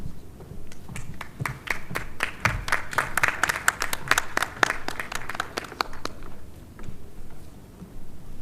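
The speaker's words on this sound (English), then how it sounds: "Clapping makes you happy and smile." Audience applause at a session on errors in medical practice, a steady patter of many hands clapping that builds, peaks and fades over several seconds, with a low murmur of a room behind it.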